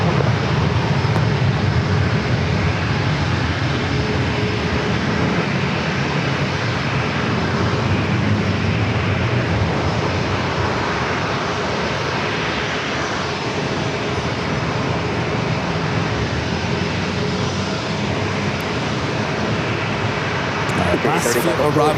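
A departing airliner at San Diego airport fills the air with a loud, sustained engine roar that holds steady and unbroken throughout.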